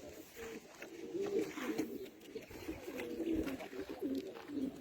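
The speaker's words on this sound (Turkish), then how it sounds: "Beyaz İstanbul Güvercini" A white Istanbul pigeon coos in soft, repeated rolling phrases, close but quiet, over a low background hiss.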